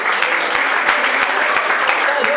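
An audience at an integration-day ceremony for a digital communication program gives steady, close applause with dense continuous clapping throughout.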